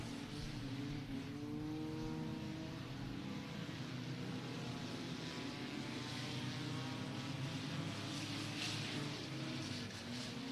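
Race cars lap Beckley Motor Speedway during the Mountaineer 50 enduro feature. Their engines make a faint, steady, distant roar of several cars together, with rising and falling tones layered over one another.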